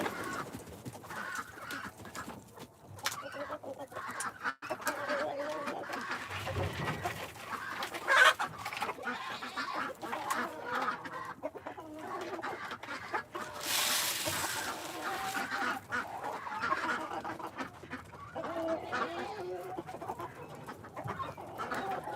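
Chickens on a farmstead cluck and chatter continuously and fairly close, with overlapping hen calls and a few louder squawks over a busy farmyard background.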